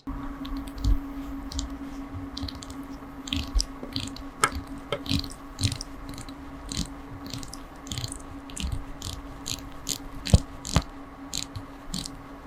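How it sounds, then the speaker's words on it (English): A steel dive bezel on a Seiko Prospex Marinemaster SJE097 watch is turned, giving a quiet run of irregular small clicks and ratcheting ticks, close up and alone. "So the bezel's a little bit hard to move, and it feels a little bit doughy when it actually does get moving."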